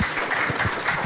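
Brief burst of audience applause at a presentation on educational results for students with sensory disabilities, a dense wash of clapping that stays steady for about a second.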